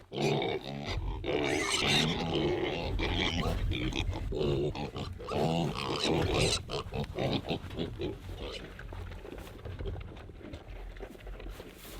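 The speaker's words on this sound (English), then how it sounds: "first we're gonna go feed the pigs" Pigs grunting and oinking at feeding time on a farm, a loud, continuous run of close grunts and squeals that thins out toward the end.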